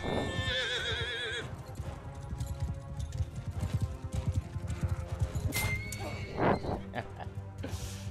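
A horse in Mount & Blade II: Bannerlord whinnies loudly during battle, followed by hooves clopping and scattered game sound effects, with a short sharp neigh again near the end.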